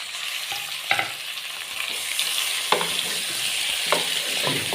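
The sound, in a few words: vegetables and tomatoes frying in a pan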